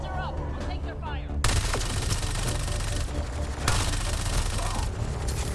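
Dense bursts of gunfire and booming blasts fill a space combat video game, loud and continuous, with a brief quieter stretch at the start.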